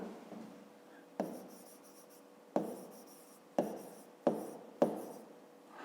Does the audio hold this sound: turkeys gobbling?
no